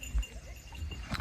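Goats held in a small temporary pen bleat a couple of times at moderate distance, short nasal calls over outdoor background noise.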